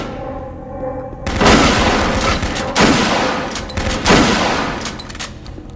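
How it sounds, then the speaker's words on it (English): Gunfire in the Doom 3 video game: loud bursts of rapid shots in three heavy waves, each ending with a booming tail, close and dominant with no talk over them. "somebody's shooting at me"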